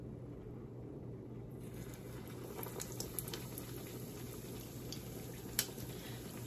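Aloo chop batter frying in hot oil, a quiet steady bubbling sizzle with a few small crackles and pops, heard alone without talk.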